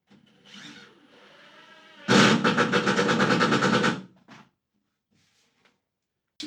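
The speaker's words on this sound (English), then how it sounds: "I'm just going to drive screws from the inside" A power driver sinks screws into a cabinet toe kick: a brief low whir, then a loud, close, rapid ratcheting chatter lasting about two seconds before stopping, followed by faint clicks and quiet.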